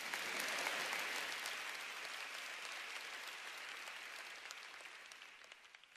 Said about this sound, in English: you can applaud that if you want